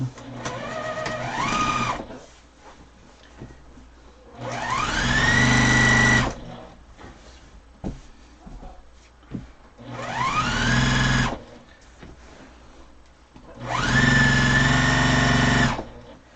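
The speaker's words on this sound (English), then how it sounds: "And I'm back stitching there in the corner in case I poke through it again." A sewing machine back stitching the corner of a pillow runs in four loud bursts of two to three seconds each, its motor whining up in pitch, with quieter mechanical handling noise in between.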